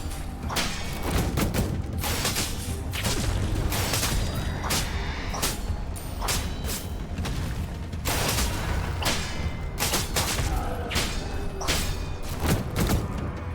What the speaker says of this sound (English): That explosion sounds fantastic